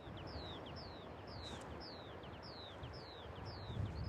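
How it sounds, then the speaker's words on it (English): A bird calls repeatedly in grass on a clifftop near a seaside cave pub, its short rising-and-falling whistled notes regular and moderately near over a steady bed of wind noise. "I hope you can hear this bird."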